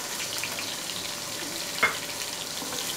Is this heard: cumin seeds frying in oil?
yes